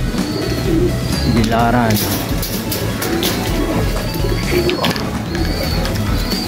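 Racing pigeons coo softly and repeatedly inside an aviary, their low throaty calls steady beneath someone speaking nearby.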